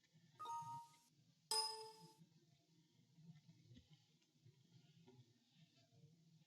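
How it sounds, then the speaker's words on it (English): Phone alert tones from an ION power-monitoring alert module: two short bright beeps about a second apart, the second louder, over a quiet background with faint low hum and rustle. "You may have heard my phone beep again"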